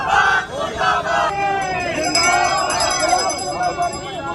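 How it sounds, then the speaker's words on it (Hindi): Congress protesters in Madhya Pradesh chant slogans against the government over deaths from contaminated drinking water in Indore. Many loud, overlapping voices chant together in a close crowd. "के दौरान सरकार के खिलाफ नारेबाजी भी की गई"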